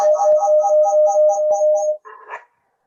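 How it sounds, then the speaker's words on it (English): A dog barks nearby in a rapid, steady run of yips that cuts off abruptly, followed by a brief muffled sound. "Sorry for the dog barking."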